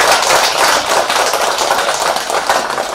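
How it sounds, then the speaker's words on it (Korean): A temple congregation claps together at a Sunday Buddhist family dharma service, a dense and loud burst of many hands sustained evenly for about three seconds. "우리 돌아가셨지만 그 우아스님께 박수 한번 칩시다."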